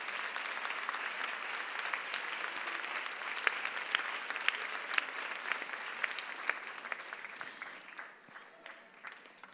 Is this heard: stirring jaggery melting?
no